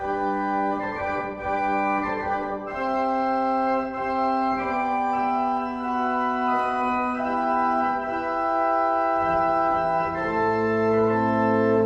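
Sustained chords on an 18th-century David Tannenberg pipe organ in Lititz, Pennsylvania, with bright layered 8, 4 and 2-foot stops, moving slowly through changing harmonies at a steady, full volume.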